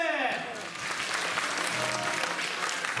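A crowd at a youth dance competition results announcement, for an under-15 team placing third, erupts into loud, continuous applause that starts right after a brief voice and stays full and even throughout.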